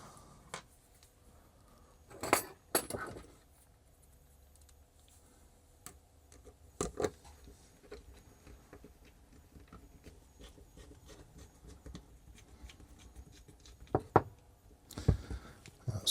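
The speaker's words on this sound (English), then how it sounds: "We can tighten these screws up." Screws are tightened on the X-axis steel rods of a Bambu Lab 3D printer, giving faint scattered rubbing and ticking sounds close to the mic, with a few louder clicks and scrapes in a quiet room.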